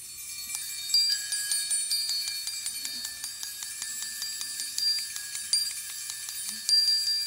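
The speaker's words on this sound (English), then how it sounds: "So let us ring our bells. Let them ring out loud and long." Small bells ring repeatedly in an irregular pattern at a hospital's cancer survivors celebration, their bright tones overlapping and sustaining, fairly quiet with no voices.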